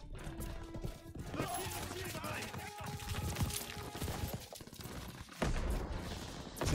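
Dense gunfire and explosions from the World War II D-Day mission in the video game Call of Duty WW2, continuous and loud. A player talks over it the whole time.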